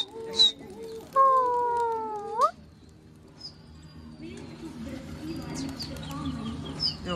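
Patiala pigeons kept by a pigeon fancier, with females fighting, give a clear drawn-out call near the start, followed by softer cooing, fluttering and faint calls over a steady background hum.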